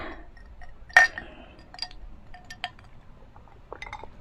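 Glasses of buko juice clink together in a toast, one bright sharp chime followed by a few lighter taps, then faint clatter and quiet murmuring in the background.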